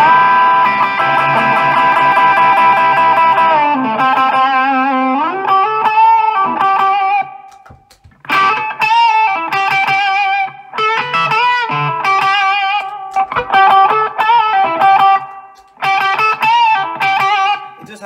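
Electric guitar played through a Boss SD-1 overdrive pedal: a long sustained chord rings out, then choppy strummed chords and short riffs follow with a gritty, mid-heavy crunch, loud and close with no talking.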